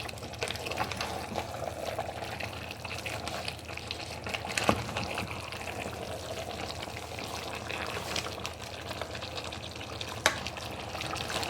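Nigerian vegetable soup (efo riro) bubbles and sizzles in a pot while it is stirred, giving a continuous wet, crackling texture with a couple of sharp utensil knocks against the pot.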